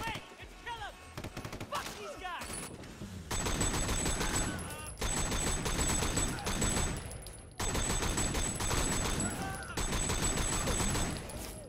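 Gunfire in Sleeping Dogs, long sustained bursts of rapid automatic shots in several loud volleys, with brief breaks between them and a voice talking faintly beneath.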